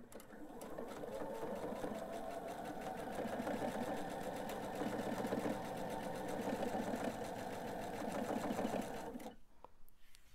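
A sewing machine chain pieces fussy-cut striped fabric kites, running in a fast, steady mechanical whir for several seconds at close range before stopping abruptly.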